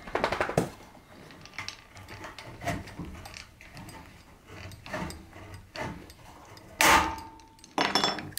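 Metal snips cut through aluminum D-style drip edge in a series of sharp crunching snips and clanks, close up and irregularly spaced, with louder bites near the end.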